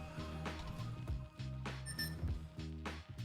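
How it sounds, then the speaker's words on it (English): A 12S-powered FPV drone's electronics chirp in a rapid series of short tonal beeps and rising melodic notes just after a battery is plugged in, quiet and close. "I don't know why it beeps"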